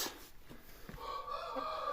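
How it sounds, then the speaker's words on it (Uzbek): A rooster of German breed on both sides crows close and loud, a single drawn-out harmonic call rising in the second half over faint yard noise. "Mana xo'roz."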